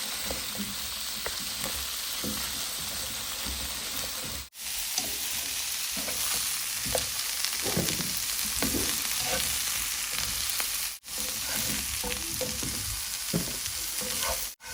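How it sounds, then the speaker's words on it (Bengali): Cauliflower and potato pieces fry in a pan of leftover fish oil, giving a loud, steady, close sizzle with occasional stirring scrapes, broken by two brief cuts and without any speech. "এখন ফুলকপি আর আলুটা মাছের তেলে ভেজে নিচ্ছি"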